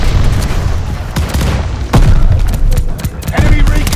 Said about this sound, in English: Friendly firebombing run inbound